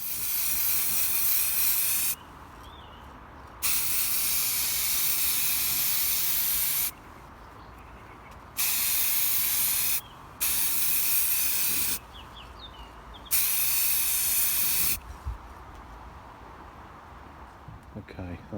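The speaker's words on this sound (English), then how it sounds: "Okay, that's now sprayed with the darker grey metallic." Aerosol spray can applying a darker grey metallic top coat to a Mantec sump guard for a Land Rover Freelander 2. Several long, loud, close hissing bursts come in repeated passes, separated by short gaps with quieter background noise.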